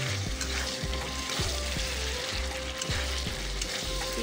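Chicken being stir-fried and browned in a pan, with a steady loud sizzle and repeated scraping stirs at a regular rhythm, close up and with no talking.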